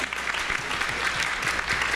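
Audience at a Juneteenth political forum clapping in a brief, steady burst of dense applause, fairly close and unbroken.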